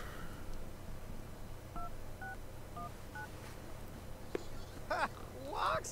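Mobile phone keypad dialing in The Sims 3, a short run of five distinct dual-tone beeps evenly spaced, over steady game background noise with a few clicks and chirps afterward.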